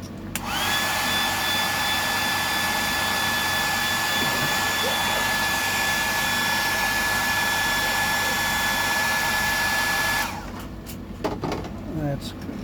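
A heat gun blows steadily over tailor bait, a loud continuous whooshing roar with a whining tone that runs about ten seconds before switching off, leaving faint handling noises.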